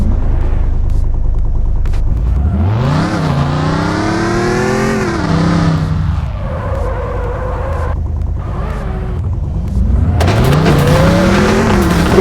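Cars in the online racing game Tuning Club Online, including an all-wheel-drive car, rev loudly and accelerate through the gears with rising engine whine, tire squeal and skidding, steady and close throughout.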